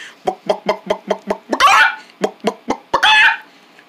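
A human voice mimics a hen, giving a run of quick rhythmic clucks followed by two longer squawks, close and fairly loud with no other talk.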